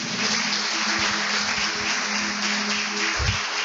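Steady applause from a church congregation, dense and continuous throughout, with no voices over it.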